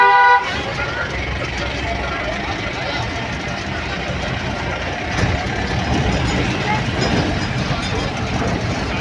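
A passenger vehicle on a road in Uttarakhand, horns tooting at the start, then steady engine and traffic noise running throughout, with voices talking nearby over the road rumble.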